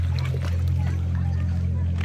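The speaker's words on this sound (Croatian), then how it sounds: "Vidim da dolazi ovaj brzi brod iz smjera Zadar, Pula." A fast boat approaches on the sea off a beach near Zadar, its engine a steady low drone with waves and wind around it, continuous and fairly loud for two seconds.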